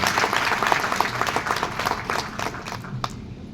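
An audience at a civil court programme applauds loudly, a dense burst of clapping from many hands that gradually thins and fades toward the end.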